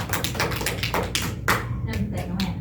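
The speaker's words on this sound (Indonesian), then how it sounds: "Yo beri tepuk tangan" Students in a classroom clap together, a dense, steady patter of many hands that runs the whole length, with a voice speaking over the applause.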